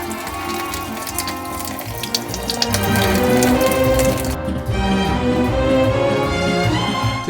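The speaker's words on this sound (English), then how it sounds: "This is probably the longest process, is filling up the tub with water." Water steadily fills the tub of a Giantex portable mini twin tub washing machine, a continuous running rush with a busy, textured splash that grows slightly louder midway and holds at a constant level.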